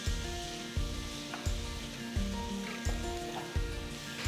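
Ginger garlic paste sizzling in a hot pan for a mutton curry, a soft steady frying hiss broken by regular stirring scrapes roughly every second, quiet and close.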